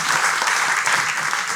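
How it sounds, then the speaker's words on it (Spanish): Loud, dense applause from a church congregation, sustained evenly across the short stretch with no pauses, with crowd noise mixed in. "Démosle un aplauso al Señor."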